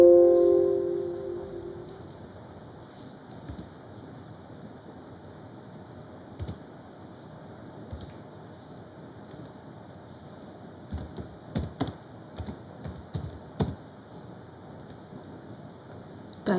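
Computer keyboard typing in a quiet room while a title is entered for a Microsoft Word 2007 mail merge, heard as faint scattered key clicks that cluster into short bursts toward the end, with no talking.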